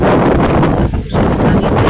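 Strong typhoon wind during flooding on Camotes Island, a loud, steady roar of broadband buffeting across the microphone with a brief dip in the middle, no talking.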